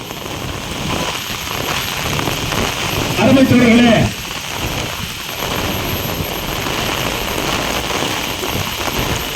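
Steady rain falling during an outdoor protest, a constant dense hiss throughout while someone briefly speaks over it through amplification.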